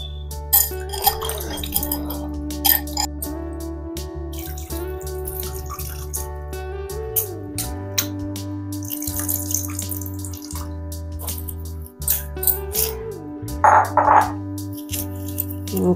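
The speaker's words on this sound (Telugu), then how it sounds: "ఇంకాస్త వాటర్ పోసి ఇంకోసారి కూడా" Water is poured into a pot of raw mango fish curry, splashing and trickling in several bursts with pauses and a low hum from the kitchen behind.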